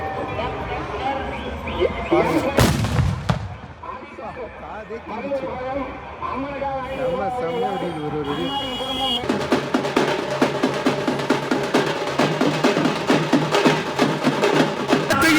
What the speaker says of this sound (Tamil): நாட்டு வெடிச்சுமா ஒன்று ஒன்று நறுக்கு நறுக்கு வெடியுது